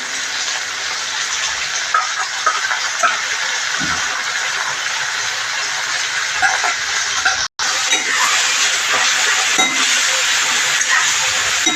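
Pigeon peas sizzle in a hot tempering, a continuous hissing crackle with faint stirring clicks and one brief silent break partway through.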